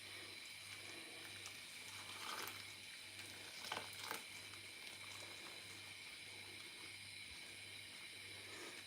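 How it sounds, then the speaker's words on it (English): Hot water poured onto cabbage in a pot for chuchu soup, a steady soft splashing stream under faint kitchen hum, low and continuous with a couple of brief louder gushes. "Hot water, and now I'm going to drop on top of the cabbage."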